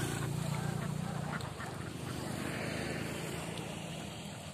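Ducks herded in a harvested rice field feeding on leftover grain, a dense chorus of quacking and chattering from a flock, steady and fairly close across the whole stretch.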